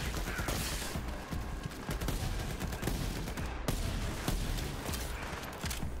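Gunfire from Borderlands 3 crackles continuously as a dense, fast stream of shots mixed with in-game effects, fairly quiet and steady throughout.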